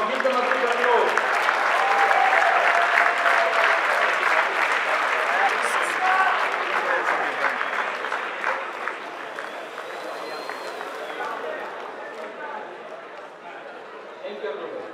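A festival closing-ceremony crowd gives sustained applause for guests who travelled from Toronto, loud clapping with cheering and chatter that slowly tapers over fifteen seconds.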